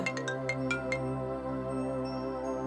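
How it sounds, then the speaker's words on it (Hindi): A phone ringtone plays as a sound effect in a Hindi horror audio story: a quick series of bright chiming tones over a steady sustained musical bed, close and moderately loud, with no talking. "अचानक उसका फोन रिंग हुआ।"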